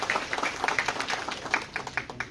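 Scattered clapping from a new student batch at a university welcome event, a moderate patter of individual claps with uneven peaks, fairly close and without talk.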